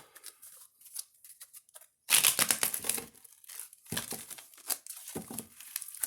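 Crisp, papery riffling and snapping of tarot cards being shuffled in quick bursts, close by, with short pauses between.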